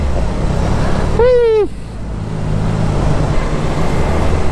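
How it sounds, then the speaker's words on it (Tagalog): Steady roadway traffic rumble from cars and motor vehicles on a congested road, with a single rising-and-falling horn or siren-like whine cutting through briefly near the middle. "Ito yung traffic naman."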